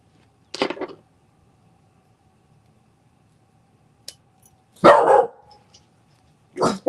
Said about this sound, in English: He's barking at nothing.